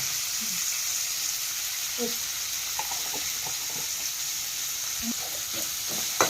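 Tomatoes fry with salt in a pan for an avarekai palya, giving a constant close hiss of sizzling with scattered soft pops and occasional stirring clicks.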